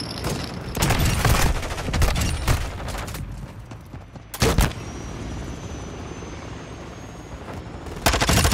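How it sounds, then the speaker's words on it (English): Helicopter in Call of Duty Modern Warfare II during a team deathmatch on the Shoot House map, a steady rotor drone under bursts of rapid gunfire and sharp booms, loud and continuous. "Call that stupid helicopter."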